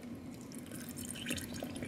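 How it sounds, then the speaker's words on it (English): Water pours into a small plastic toy snack container up to its fill line, a soft, close trickle with light drips and splashes, continuous and quiet with no voices. "I'm going to pour the water up to the fill line"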